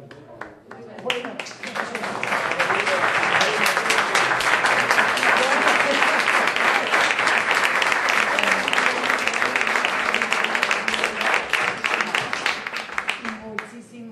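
Warm audience applause after a talk at a book presentation, clapping rising quickly to a dense, even roar from a roomful of people and holding steady for over ten seconds before easing off.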